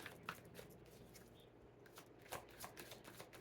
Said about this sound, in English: Oh, this deck never lets me shuffle this way.